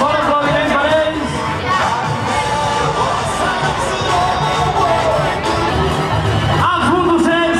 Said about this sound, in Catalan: Fort aplaudiment per ells.